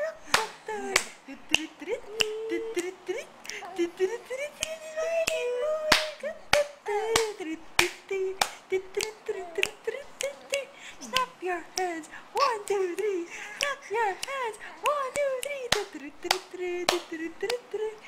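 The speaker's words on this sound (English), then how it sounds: "clap your hands with me" Hands clapping in a steady beat alongside a sung nursery rhyme for a two-month-old baby, sharp close claps repeating roughly every half second under continuous singing.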